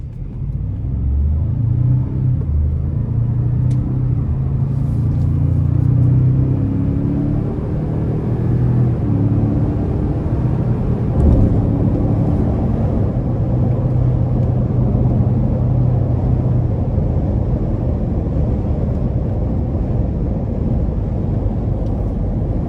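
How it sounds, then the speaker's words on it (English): A 2025 Ford Expedition Max Platinum accelerates onto an interstate. A steady, deep engine and road rumble holds under cabin noise, with a faint swell early on, and no one talks. "Now we're gonna try to give it a pretty good pull getting on the interstate here"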